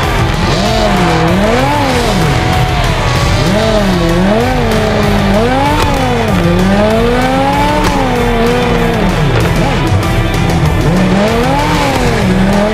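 A car in the Car Parking Multiplayer game revs and drifts, its engine note rising and falling under loud, continuous tire squeal and skidding.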